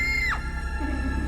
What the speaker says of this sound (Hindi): प्रेरणा की तो चीख निकल जाती है।